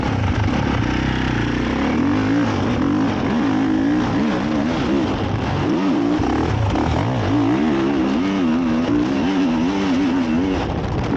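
A Ducati Duke motorcycle lapping a small kids' dirt track near Weston Beach, its engine droning steadily and revving up and down throughout, loud and close with no pauses.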